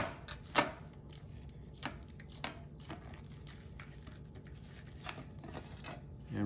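Raw sausage meat is pressed and smashed flat by hand over a pork roast, giving a series of soft, close squishing and slapping thuds at uneven intervals, fairly quiet, with no talking.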